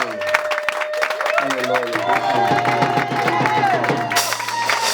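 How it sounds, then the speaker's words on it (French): A church congregation at a worship service claps and cheers in a loud, sustained burst, with voices shouting and musical tones running beneath the steady applause. "Acclamons fort"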